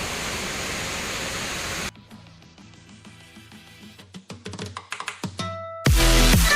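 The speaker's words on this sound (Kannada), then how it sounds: "ಆ ಕೊಳೆ ಕಲೆಕ್ಷನಿಂದ ಆ ಫೋರ್ಸ್ ಆಗಿ ನೀರು ಅಲ್ಲಿ ಬರುತ್ತೆ ನೋಡಿ" Water forced out of a pipe outlet roars as a loud, steady rush, cuts away to quieter clattering and tonal sounds, then the forceful gush returns loudly at the end.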